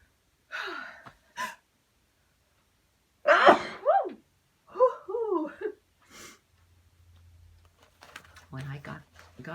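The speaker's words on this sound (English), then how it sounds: "I'm going to sneeze again" Gasping intakes build up to sneezes, two or three sharp, close bursts with breathy whimpering between them, followed by faint rustling and brief speech-like sounds.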